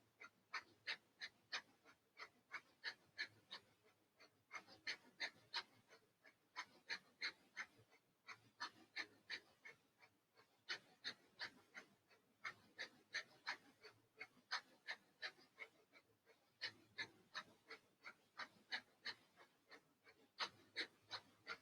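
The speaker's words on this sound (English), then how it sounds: "And begin another fire breath." Breath of fire in a yoga session, rapid rhythmic panting exhalations through the nose, close and steady in repeated bursts with brief pauses between rounds.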